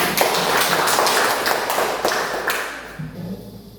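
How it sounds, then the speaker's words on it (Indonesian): A classroom of students claps for a classmate named Helena, a dense burst of many hands that holds for about three seconds, then thins out and fades. "Berikan tepuk tangan dulu untuk Helena."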